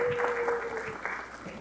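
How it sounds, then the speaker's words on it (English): Audience applause at the end of a writers workshop conversation, a brief steady wash of clapping with a faint tone running beneath. "If we could give them one final round of applause."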